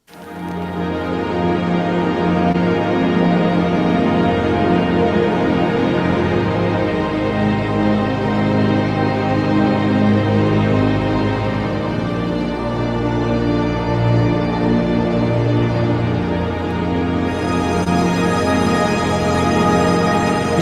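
A rich sustained Spitfire Audio synthesizer preset plays evolving layered tones and drones, loud and continuous, with a bright shimmer entering near the end.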